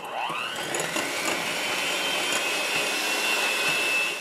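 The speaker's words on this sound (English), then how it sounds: "we are going to take a hand mixer and we are going to cream these together" Electric hand mixer creaming room-temperature butter and sugar for cookie dough: a continuous whirring motor hum that starts at once and holds steady throughout, close and moderately loud, with no talking.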